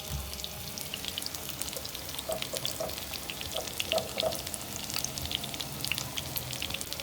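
A burger bun toasting in a lightly greased pan crackles and sizzles steadily up close, with small pops and faint clinks scattered through and no one speaking.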